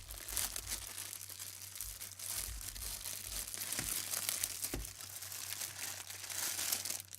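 Plastic crinkles and crackles as the sealed bag around a Seagate 4TB USB 3 desktop drive is pulled and torn open, steady rustling throughout with a low hum beneath.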